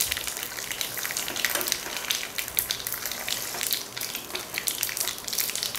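Sweets for a Vinayaka Chavithi offering frying in hot oil, a steady dense crackling sizzle with fine bursting bubbles, close and continuous throughout with no talking.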